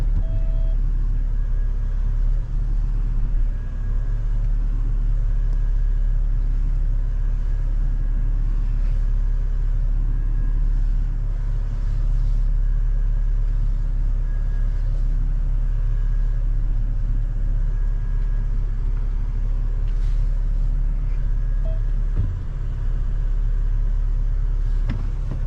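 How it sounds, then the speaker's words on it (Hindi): Car being driven out of a parking spot at a resort near Badrinath, a steady low engine rumble throughout with faint shifting and occasional knocks, close and without talk. "निकालते हैं गाड़ी।"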